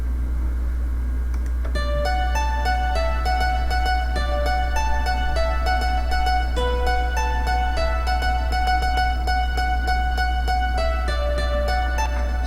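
Synth guitar patch, a GT dance guitar preset from the Nexus plugin, playing a bright plucked melodic line over a constant low droning bass tone, with no talking.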